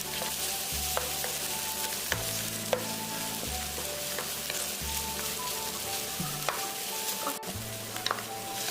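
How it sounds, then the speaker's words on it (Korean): Spam being stir-fried with soy sauce and sugar in a pan over low heat, a steady close sizzle with repeated spatula scrapes and stirring clicks, no voices. "스팸이 노릇노릇하게 볶아졌으면 분량의 진간장과 설탕을 넣어 간장을 눌켜주듯이 볶아줍니다"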